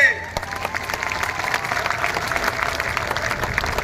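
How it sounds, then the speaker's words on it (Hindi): Steady applause and clapping from a large crowd at a Yuva Mitan Club gathering in Raipur, dense and sustained, with a faint voice above the noise at the start. "एक बार जोरदार आप सब अपने लिए ताली बजा दीजिए जोर से।"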